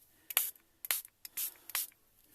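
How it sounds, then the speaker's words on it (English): Pretty Amazing spray paint in Vintage Violet hissing from a can onto a beach-themed craft canvas, four short sharp bursts in an uneven rhythm, close and clear with no talk. "We're going to bring in some Pretty Amazing spray."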